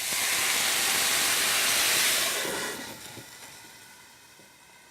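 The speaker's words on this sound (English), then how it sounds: "And this means it's steam cooking." Sake poured into a hot pan of teriyaki chicken sizzles and steams, a loud close hiss that holds for about two seconds and then softens into a quieter simmering crackle.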